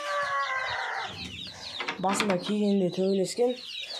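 A black rooster and hens cluck close by in a short burst of throaty, rising calls, with a person speaking over them.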